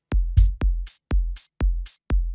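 Organic house hi-hat sample heard without envelope processing, five punchy hits at a steady pace with a low thump and a bright sizzling tail on each, clean and loud with no voices.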